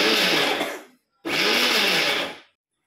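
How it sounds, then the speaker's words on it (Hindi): Mixer grinder whirring as it blends cappuccino coffee, two loud steady bursts about a second each separated by a brief pause, cutting off abruptly. "इसको और थोड़ा सा और चलाना पड़ेगा मिक्सर को।"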